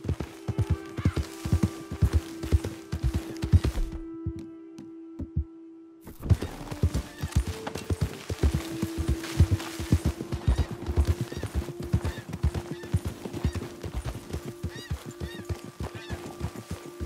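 A horse gallops in Red Dead Redemption 2, its hooves thudding in a fast, steady rhythm broken by a brief pause, with low tonal game sounds droning underneath.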